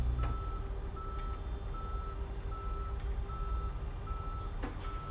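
A tow truck reversing in a police patrol simulator game sounds a steady, evenly spaced series of electronic beeps over a low engine rumble, with no talking.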